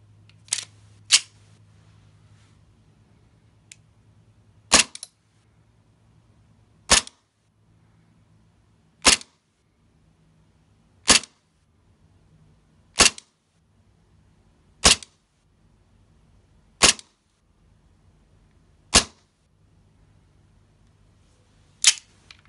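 A KJW M9 Beretta green gas airsoft pistol fires BBs in about ten sharp, loud single cracks spaced roughly two seconds apart, each standing alone against a faint low hum, with no talking.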